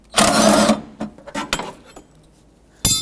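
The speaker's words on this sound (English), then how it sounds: "Remove these two 10mm bolts." Tools work on the two 10mm bolts of the antenna bracket inside the trunk of a 2005–2010 Chevy Cobalt: a loud burst of ratcheting, then sparse metallic clicks and taps, and a final ratchet burst.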